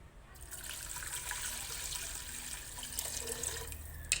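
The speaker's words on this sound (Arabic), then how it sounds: "وندير الماء." Water runs steadily from a tap into a cooking pot holding canned tomato paste, salt and chickpeas, a continuous close splashing rush lasting several seconds with no talk.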